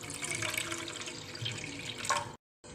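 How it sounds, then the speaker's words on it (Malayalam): About half a cup of water is poured into a pan on the stove while making a chilli pickle, a short close splashing trickle lasting roughly two seconds before it cuts off. "അപ്പം ആ ചട്ടിയിലേക്ക് നമുക്കൊരു 1/2 കപ്പ് വെള്ളം ഒഴിച്ചു കൊടുക്കാം."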